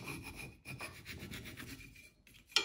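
A carving knife shaves wood while roughing out the head of a gadwall drake decoy, giving a series of soft, close rasping strokes with brief pauses between them.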